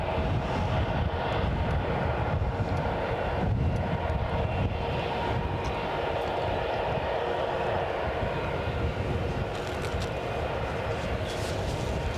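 An SAS CRJ jet aircraft at Aberdeen airport gives off a steady, loud, continuous engine roar and whine, with a voice talking intermittently over it.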